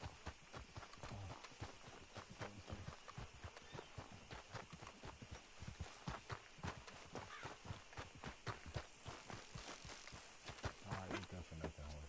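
Horse hooves in Red Dead clop in a fast, steady galloping rhythm on the ground. The sound is continuous and close, with faint game ambience underneath and a quiet voice now and then.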